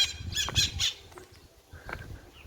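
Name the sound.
parrot squawking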